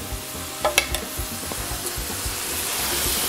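Hot syrup is poured over almond and walnut baklava fresh from the oven, beginning with a couple of light clinks and then a soft, rising sizzle up close.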